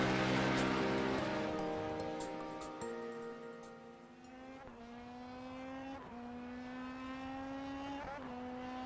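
Formula 3 race cars in a sim racing game at Sonoma Raceway scream through the gears, their high engine whine climbing and dropping sharply at each shift, heard alone without talk.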